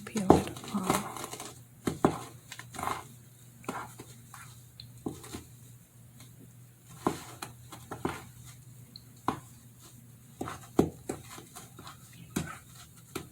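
A spoon works through thick, sticky cookie dough in a bowl, giving soft, irregular squelches and dull taps at close range, with quiet pauses between strokes.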